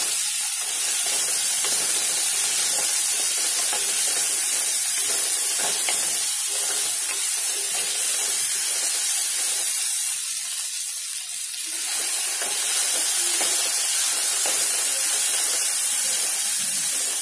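Ingredients for a sprouted fenugreek kulambu frying in a pan: a loud, continuous, close hiss of sizzling oil that dips briefly partway through and then resumes, with no talking.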